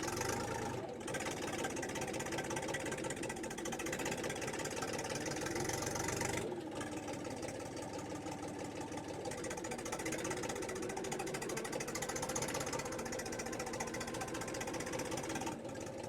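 A cold Kentavr 244SX mini tractor engine runs close by with a steady, loud, knocking drone that holds even throughout, with a couple of brief dips in level along the way.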